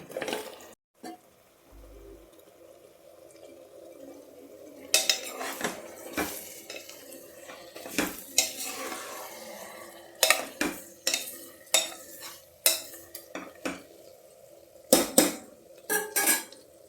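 Mutton curry with fried onions stirred in a pot, heard as repeated metal clanks and scrapes of a spoon against the vessel over a faint sizzle, close and irregular, without talk.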